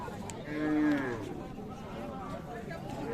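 A dairy cow at a rural cattle market, where Friesian and Jersey cows are sold with calves, lets out one clear, fairly close moo, while people talk and murmur in the background.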